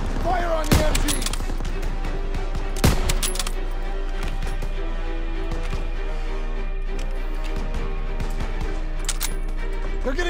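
Machine gun fire and other gunfire in a Call of Duty WWII street battle, with dense, steady bursts of shots, two sharp, loud blasts near the start, and a constant layer of battle noise and music underneath.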